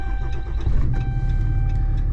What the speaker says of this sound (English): Put the original key in the vehicle. Start it up in park.